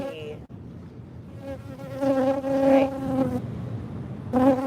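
A honeybee buzzes near the microphone during an outdoor livestreamed yoga class. The drone is steady and droning, rising and falling in loudness, and a voice speaks briefly.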